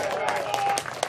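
Applause at a British Talent Cup motorbike race at Brands Hatch, a brief steady patter of clapping with talk over it.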